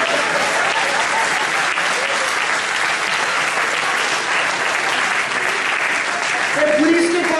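Steady, dense applause from an audience at a live comedy storytelling show, sustained and fairly loud throughout with a slight swell near the end.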